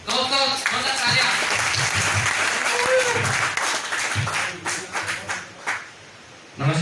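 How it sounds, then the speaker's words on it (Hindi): An audience at a solar business seminar in Balotra claps loudly to welcome a guest onto the stage. The dense applause fills most of the stretch, with voices and a few cheers over it, then it thins out near the end. "दोस्तों, जोरदार तालियां।"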